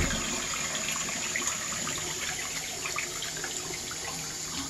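Water runs and drains down a clogged sink fitted with an accordion P-trap, a steady, close, broadband rushing and gurgling that continues evenly without speech.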